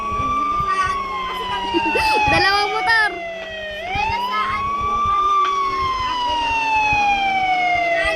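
A wailing ambulance siren in the video game Los Angeles Crimes rises and falls in long sweeping tones, loud and close, with a second siren layered in and people talking over it.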